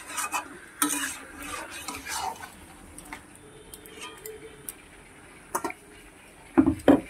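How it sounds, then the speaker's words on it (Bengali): Ground spices are sautéed in a pan for a dum chicken gravy: a quiet background sizzle under intermittent spoon scrapes and taps against the pan, with louder clatters near the end and a voice now and then. "এবার মশলাগুলো একসঙ্গে কষিয়ে নিলে"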